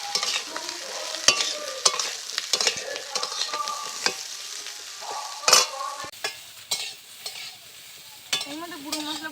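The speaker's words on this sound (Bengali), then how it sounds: "সব কিছু একটু ভালো করে ভাজা ভাজা করে নিতে হবে।" Cut green plantain and potato pieces frying with onions in a pan, a continuous close sizzle with frequent stirring scrapes and clatters of a spoon against the pan, loud and irregular throughout.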